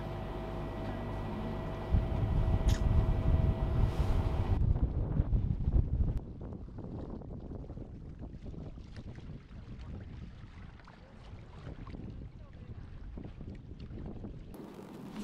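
Wind gusts and rushes steadily across a sailboat just outside a marina entrance, mixed with water wash and hull noise, loud and continuous with no voices.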